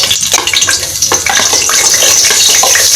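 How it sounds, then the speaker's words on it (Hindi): Finely chopped onion and garlic go into a spoonful of Soya Supreme oil in a cooking pot, giving a loud, steady sizzle with crackling pops and occasional stirring scrapes throughout. "ये प्याज जो हमने आपको दिखाई थी और ये लहसुन बारीक कटा हुआ डाल दें इसमें। और फिर इसको अच्छी तरह भून लें"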